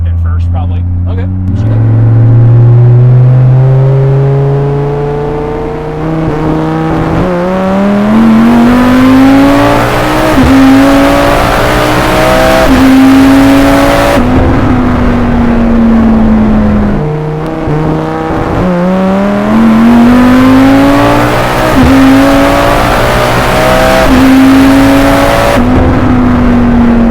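A 3300 hp twin-turbo Dodge Viper accelerates hard through several gears on a street, its engine note climbing loud and close, dropping at each shift and rising again, with rolling anti-lag crackle mixed in. People talk over the engine.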